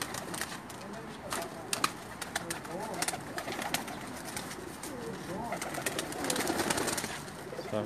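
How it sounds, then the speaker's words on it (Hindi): Pigeons of Pakistani stock coo steadily on a new rooftop loft in Jeddah, Saudi Arabia, soft repeated calls layered over one another with occasional wing and handling noises and someone talking throughout. "कबूतर जी।"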